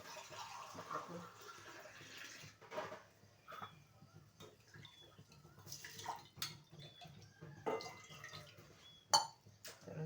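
Two or four pots being scrubbed and rinsed by hand in a home kitchen while tea boils nearby, with irregular clinks, scrapes and water splashes, fairly faint, against a low steady background hum.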